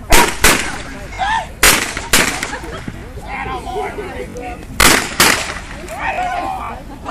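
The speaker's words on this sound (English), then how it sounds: "Canine Rudy didn't have any problems with the gunfire." Several sharp gunshots crack in irregular bursts, loud and close, with shouting voices in between, during a police K9 demonstration.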